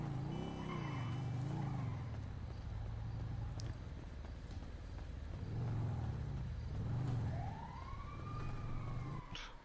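A car driving in a game, engine droning steadily with pitch rising and falling as it moves, mixed with a wailing police siren and a rising whine near the end, continuous and loud.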